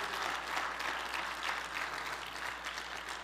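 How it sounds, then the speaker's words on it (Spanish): A church congregation applauds during a Spanish-language sermon, giving sustained, even clapping from a crowd at moderate distance with no voices standing out. "Denle un aplauso a Jesús."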